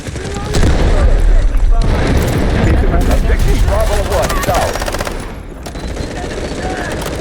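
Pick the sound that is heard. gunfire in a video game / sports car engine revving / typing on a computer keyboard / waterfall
gunfire in a video game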